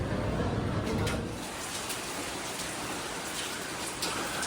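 Steady, dense rain from Typhoon Emong, nearing landfall near Pangasinan, hisses continuously at moderate volume with no voices.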